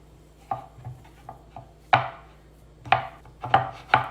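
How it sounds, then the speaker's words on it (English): Chocolate chip cookie dough being kneaded by hand on a hard surface: a series of soft, irregular thumps and presses, a few louder slaps spaced around a second apart, close and with no talking. "I'm just going to knead it just to make sure everything is well combined"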